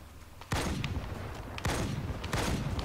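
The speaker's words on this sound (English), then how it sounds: "Both of them are shooting at me." Three loud, sharp gunshot bursts in Halo: The Master Chief Collection, spaced about a second apart, each a broadband crack with a thudding tail over a steady low game background.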